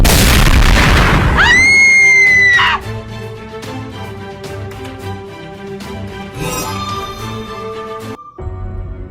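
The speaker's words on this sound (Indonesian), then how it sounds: "Ini tembakan untuk yang terakhir kalinya." A loud booming gunshot in Sakura School Simulator blasts at the start, followed by ringing tones and scattered game sound effects.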